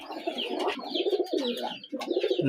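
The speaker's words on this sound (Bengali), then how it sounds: "মাদি কবুতর" Female pigeons coo in soft, rolling bursts, repeated several times close by with brief pauses between calls.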